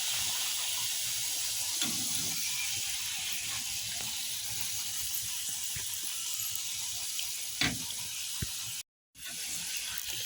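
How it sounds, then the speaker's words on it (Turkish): A steady, close sizzling hiss of börek pastry frying in hot oil, with occasional soft pops and a brief cut near the end. "yağını da koydum üzerine ve kızartmaya başladım"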